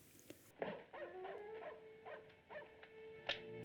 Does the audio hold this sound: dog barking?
yes